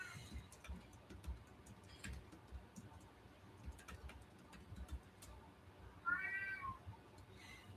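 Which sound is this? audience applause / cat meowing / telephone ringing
cat meowing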